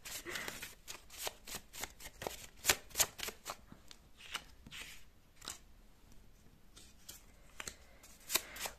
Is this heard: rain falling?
no